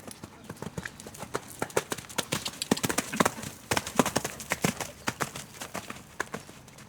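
Horse cantering in a riding lesson, its hooves striking the ground in a quick, steady three-beat clip-clop rhythm that carries clearly and evenly throughout.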